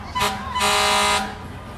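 A vintage Edmond Fire Department fire truck in a LibertyFest parade sounds its loud air horn, one short blast and then a longer sustained blast, over crowd background noise.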